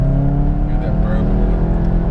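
Volkswagen engine pulling in second gear, a steady, loud drone of engine harmonics that holds through the clip, with road and cabin rumble underneath and no speech.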